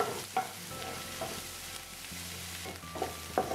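Chopped onion being sautéed and stirred in a pan for tomato bhaji, a soft low sizzle with occasional scraping clinks of the spatula against the pan.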